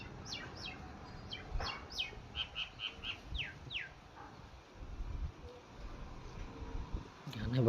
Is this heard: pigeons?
yes